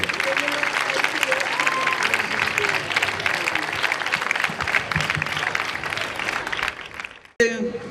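An audience at an anniversary celebration for a secondary school, IES Maestrat, gives a strong round of applause, dense continuous clapping from a large hall that carries on almost the whole time before cutting off.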